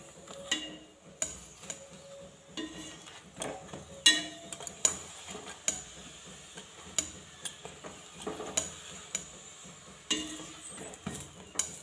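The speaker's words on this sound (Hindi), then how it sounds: "तो दोनों तरफ हम तेल लगा देंगे और इसे अच्छे से सिकाई कर देंगे।" Aloo paratha roasting in oil on a pan for a breakfast tiffin, giving a low steady sizzle broken by frequent sharp clicks and taps of the spatula against the pan, close and alone with no talk.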